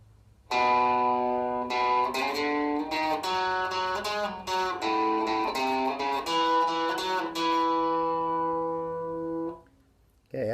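An electric guitar plays a sliding blues pattern on the 5th string, a run of distinct picked notes with an effects-tinged tone that rings out alone before fading to silence.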